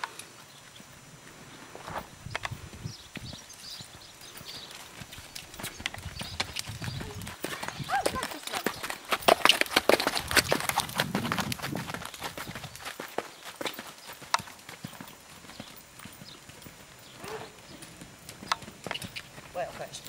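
A horse walks in a ridden session, hooves clip-clopping in an irregular rhythm that builds louder and nearer midway, with people talking in French over it.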